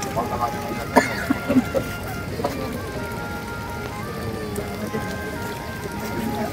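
Steady rain hisses down outdoors near the entrance gate of a labour culture park, with a few sharper drops and knocks early on and faint voices underneath.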